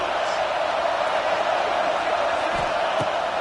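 A stadium crowd roars throughout a college football video game as the defense faces third down, a loud, dense, steady wall of cheering with a couple of thuds near the end.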